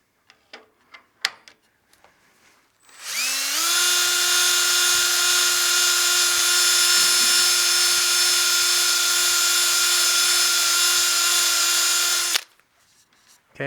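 A power sander hums at a steady high whine for about nine seconds, spot sanding tear-out on a wooden bowl, with light handling clicks before and after.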